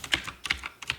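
Quick clusters of light clicks from typing on a computer keyboard: three or four short bursts of keystrokes within a second, close and fairly quiet.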